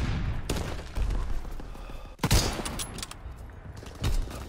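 Gunfire in the online war game WAR: a steady battlefield fusillade of overlapping shots, with one loud close blast near the middle and another sharp report toward the end.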